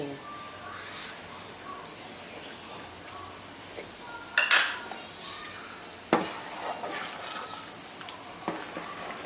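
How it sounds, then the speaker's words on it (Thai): Spoon scraping and clinking in a pot while sugar is stirred to dissolve for Ubon-style coconut milk noodles, soft swishing broken by a few sharper knocks against the metal, with quiet talk in the background. "คนให้น้ำตาลทรายละลายให้ดีนะ"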